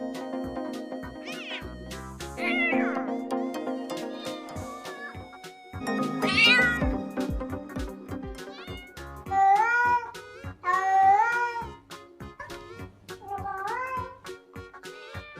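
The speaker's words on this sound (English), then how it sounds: "C for cat." A cat meows repeatedly, a series of rising and falling cries, some drawn out and whiny, heard over a steady tonal background of a children's phonics song.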